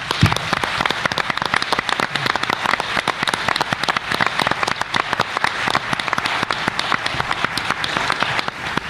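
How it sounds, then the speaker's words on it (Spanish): A podcast audience breaks into applause, a dense, steady wash of many hands clapping at even loudness for the whole stretch, with no talking over it. "Yo creo que se merece un aplauso."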